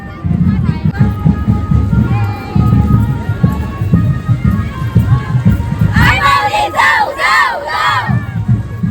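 A crowd at the Juhu village palkhi procession roars and shouts in celebration, loud and close, with chanting voices and a burst of high cheering partway through.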